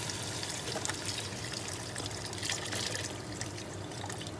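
Chicken stock pours into a pot of lamb stew, giving a continuous, fairly quiet liquid splashing and trickling with faint sizzle, steady for several seconds and with no talking.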